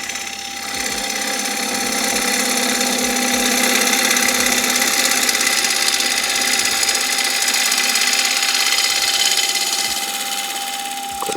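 A wood lathe spins with a steady, loud whirring hum while a gouge makes a push cut into the turning wood, adding a continuous rough, scraping texture throughout with no speech.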